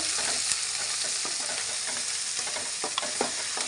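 Curry leaves crackle and sizzle in hot oil while being stirred, a soft steady fry with a few sharper pops and scrapes, close up and with no talking.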